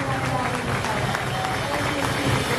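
A worship camp congregation claps together for God, giving dense, steady applause from a large crowd that fills the whole moment, with voices mixed in.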